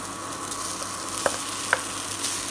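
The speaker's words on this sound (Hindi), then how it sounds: "अब हम इसमें आलू ऐड करेंगे।" Crisp okra frying in a pan as potatoes are added, with a steady moderate sizzle and two sharp utensil clinks partway through.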